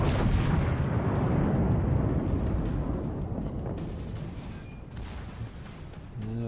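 Secondary guns fire in a World of Warships naval battle: a heavy, rumbling barrage of booming blasts that slowly fades, then a fresh burst arrives at the very end, with no voices.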